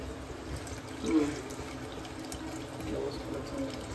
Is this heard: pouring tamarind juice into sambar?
yes